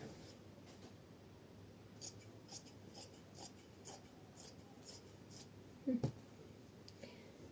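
Scissors snip through fabric while a bat-sleeve garment with a turtleneck is cut out, giving a quiet, evenly spaced series of short crisp cuts and a louder rustle near the end, close by with no talking.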